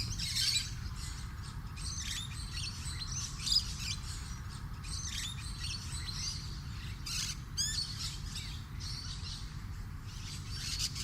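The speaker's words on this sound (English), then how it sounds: "Parrots are drawn to this sweet bonanza as well. Among them, the musk lorikeet." Musk lorikeets and other parrots feeding among eucalyptus blossoms, with repeated high chirps and shrill screeching calls scattered over a low steady background rumble, no voices.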